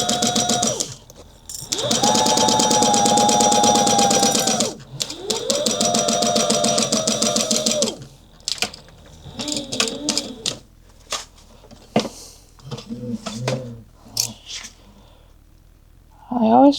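A sewing machine stitches a clutch wallet with back stitching, two long steady runs of fast motor whirring and needle chatter, then short bursts, clicks and handling noises close by, with some quiet speech near the end.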